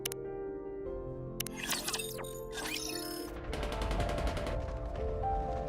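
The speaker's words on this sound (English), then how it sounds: "Gunfire rings out." Gunfire in the video game NIKKE comes through as a dense rattle of rapid shots, following a stretch of mechanical clanks and whooshing effects laid over a sustained musical tone.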